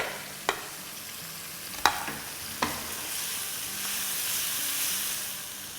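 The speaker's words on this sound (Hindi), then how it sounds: "तो बस मसाले को जब तक फ्राई करना है जब तक ये थोड़ा सा सॉफ्ट ना हो जाए।" Masala with green chillies and hot serrano chillies frying in a pan for bhindi: a constant soft sizzle broken by three sharp spoon knocks in the first few seconds, then a slightly louder hiss.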